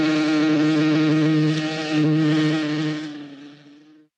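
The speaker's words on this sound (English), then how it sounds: "Buzz." A buzzing insect sound effect from an English textbook audio, a steady harmonic drone that holds loud and close for about three seconds before fading out, alone with no talk.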